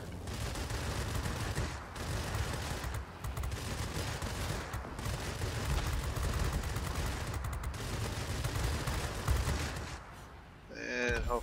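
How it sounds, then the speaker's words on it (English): Aircraft machine guns fire from a Bell XP-77 fighter in the World of Warplanes game, with dense, sustained rattling bursts over a roaring engine and broken only by brief pauses. "that's the benefit of those machine guns, starting those fires"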